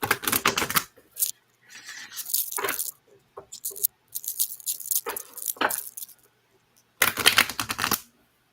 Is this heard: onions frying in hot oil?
no